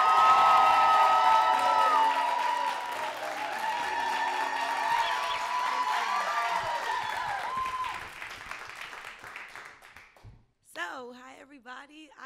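Audience at a live spoken-word culture event cheers, whoops and claps loudly and continuously for a poet taking the stage, fading out near the end as a single voice begins speaking.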